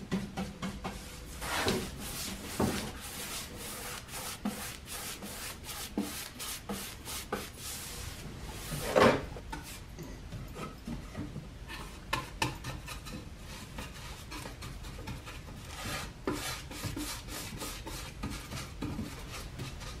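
A brush rubs dark green paint onto wood in quiet, uneven strokes, with soft scraping and a few small knocks, a light coat going on for a distressed finish.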